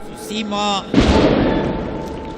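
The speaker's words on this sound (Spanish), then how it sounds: "En medio del juramento, explosiones." A sudden loud blast from a terrorist bombing erupts during an oath ceremony after a brief stretch of talk, followed by a rumbling, noisy aftermath that lingers for over a second.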